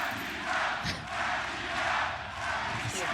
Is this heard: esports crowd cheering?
yes